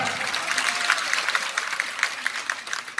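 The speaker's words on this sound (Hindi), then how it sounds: "मैं चाहता हूं अंजना जी के लिए जोर से तालियां।" A large crowd at a Jan Aakrosh Sabha political rally in Unhel, Ujjain claps loudly and steadily, the applause rippling with individual sharp claps as it gradually thins toward the end.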